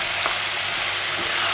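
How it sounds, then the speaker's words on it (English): Tomato, coriander and spices frying in a pan for homemade chilli, giving a steady, close sizzle that holds evenly with no pauses and no talk. "I have to fry so that the salt, everything goes in well."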